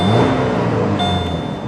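A Pontiac G6 engine turns over and settles into a loud, close idle with a tonal whine, heard alone for under two seconds.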